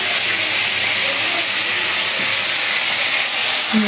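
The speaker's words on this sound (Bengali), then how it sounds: "পেঁপে, একটু লবণ দিয়ে দিয়েছি, একটু ভেজে নেব।" Papaya and potato with salt frying in a pan, a loud, continuous hiss and sizzle close by, with no talking and little change throughout.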